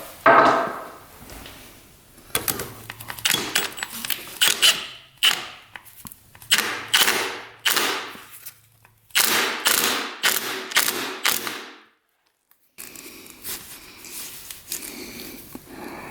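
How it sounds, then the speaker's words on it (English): A ratchet tightens a bolt back onto a small engine, with bursts of rapid clicking strokes separated by short pauses and a few knocks, close and loud with no speech. "Let's get our bolt back on. Tighten that back up."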